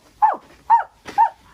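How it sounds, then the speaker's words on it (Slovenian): A small dog barks three times in an evenly spaced row, each bark short, close and clear against a quiet background. "Psiček laja."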